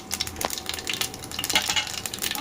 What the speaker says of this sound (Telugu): ఆవాలు వేసినాము